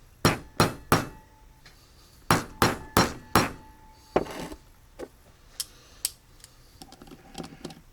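Sharp metallic hammer taps dimpling small screws on a 2008 Kawasaki Concours 1400 motorcycle, struck in quick groups of three and four, close and crisp, then lighter scattered taps.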